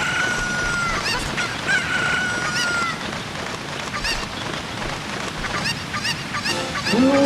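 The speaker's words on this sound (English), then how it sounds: "Now the trick is to get this and pick up the chicken so you can get the next one." Chickens in Zelda: Ocarina of Time, a video game, clucking and squawking in short irregular bursts over a busy game soundscape, moderately loud and fairly close, with a sharper squawk near the end.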